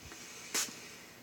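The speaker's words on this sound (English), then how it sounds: "Doing it like I'm spraying the camera." A cosmetic spray bottle gives one short, sharp hiss of mist toward the camera, a quick burst of about a tenth of a second, close and clear against a quiet room.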